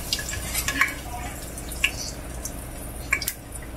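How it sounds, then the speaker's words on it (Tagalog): Pork sautés with garlic in a pan, with close, sharp scrapes and clinks of a utensil against metal over a low bed of frying crackle. "igisa muna natin yung ating karne guys. Lagay tayo ng bawang"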